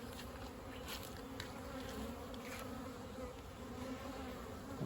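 Honey bees from a strong overwintered colony hum steadily during a hive inspection, a dense close buzz with individual bees flying past the ear throughout, no voices.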